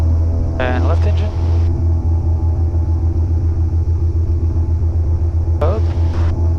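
The left engine of a twin-engine Baron aircraft running during the pre-flight run-up, a loud, steady low drone throughout, with short bursts of talking near the start and end.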